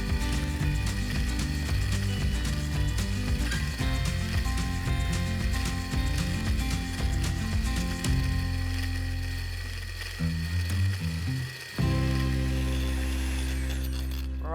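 A Magimix Power Blender running flat out on turbo at gear 5, a loud mechanical whir with a grinding, ratcheting edge that shifts pitch as the load changes, then drops and surges again near the end.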